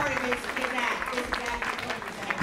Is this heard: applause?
yes